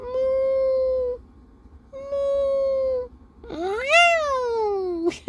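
A pet cat meows repeatedly: two steady, level mews in a row, then a longer, rising and falling drawn-out meow, close and clear in a quiet room.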